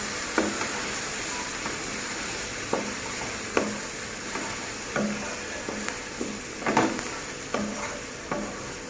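Onion and beef stirred with turmeric in a frying pan, a soft steady sizzle under repeated spatula scrapes and taps at irregular intervals, close and moderately quiet.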